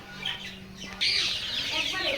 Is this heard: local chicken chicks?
yes